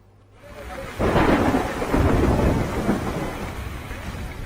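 Heavy monsoon rain and rumbling thunder in Gir Somnath district, Gujarat, a loud continuous roar of downpour swelling after a brief quiet start, with deep thunder rolling underneath and no voices.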